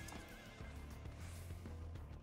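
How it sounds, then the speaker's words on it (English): A horse mount in an online fantasy role-playing game neighs loudly and shrilly, then lets out a long whinny over steady hoof clip-clop and game sounds, with no speech. "That horse's name better be Buttercup or Peanut Butter Sparkle."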